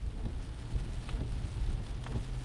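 Steady rain with low rumbling thunder in a video game, a soft, even hiss over a deep rolling rumble, faint and without speech.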